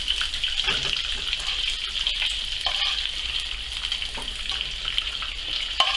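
Venison meatballs frying in a hot pan give a steady, moderately loud sizzle with faint crackles and pops throughout, no voices.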